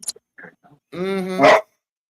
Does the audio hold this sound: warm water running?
no